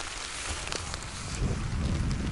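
Steady rain drumming on a tarp shelter at a wild camp on Dartmoor, a soft continuous patter close overhead, fairly quiet with no voices.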